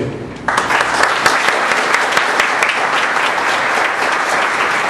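An auditorium audience at an evening reading by a book author breaks into steady, dense applause that starts abruptly and holds at full strength throughout, with no talking over it.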